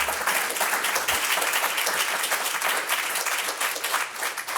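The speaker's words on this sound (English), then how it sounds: "Let's give Matthew a round of applause for." Audience applause at a community business presentation in Champaign-Urbana, a steady wash of many hands clapping that holds at an even level throughout without voices.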